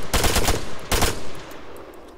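Automatic rifle fire in the Arma 3 video game: two rapid bursts, the first longer with several quick shots and the second shorter, loud and sharp with a brief reverberant tail and no talk.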